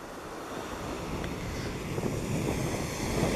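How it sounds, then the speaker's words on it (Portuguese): Rough sea surf pounds a beach at high tide, a continuous broad roar of breaking waves that swells slightly over time, mixed with gusts of wind buffeting the microphone. "A maré tá muito alta, o mar aqui é muito bravo"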